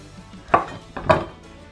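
A knife cuts down twice through a pear on a board, trimming the top and bottom, each stroke ending in a sharp close knock on the surface, about half a second apart.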